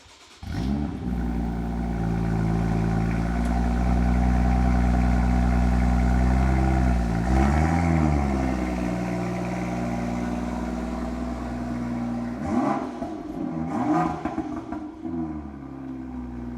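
A BMW M2 engine drones steadily, then revs up and down with sharp rises in pitch toward the end, close and loud, no talking.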